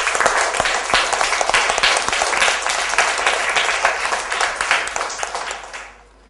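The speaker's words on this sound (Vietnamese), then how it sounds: "Chúng ta vỗ tay quan hô hai bạn." Loud, dense applause fills a classroom as pupils clap for two classmates, a steady wash of many hands that fades out near the end.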